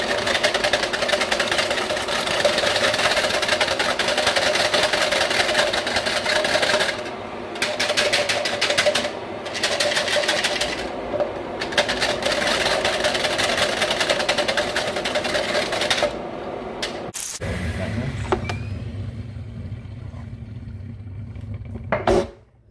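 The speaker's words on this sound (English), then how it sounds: "And here I've got some double cream, which I'm going to just quickly whisk up." Double cream being whisked, heard as a loud, steady buzzing whir that runs for about seventeen seconds and then stops, followed by a short low rumble.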